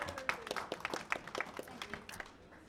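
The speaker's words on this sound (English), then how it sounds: "Round of applause." Scattered audience applause at a portrait photography judging session, faint and fairly distant, with sparse uneven claps that thin out toward the end.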